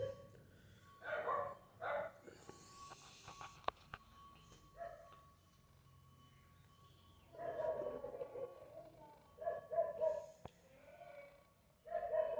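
Dogs barking in scattered bursts at a moderate distance, with quiet gaps between the volleys of barks.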